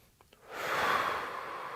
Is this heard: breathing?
yes